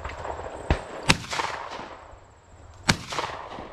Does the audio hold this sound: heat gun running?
no